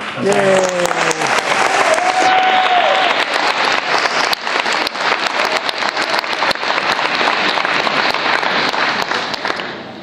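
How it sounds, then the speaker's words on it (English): A roomful of people gives loud applause for the young people in attendance at an event, thick continuous clapping with a voice and a short rising whoop near the start before the clapping carries on alone. "I'd like to give a little round of applause to the young people in the room."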